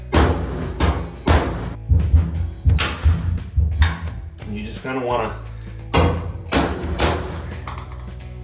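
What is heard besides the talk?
hammering out a dryer vent knockout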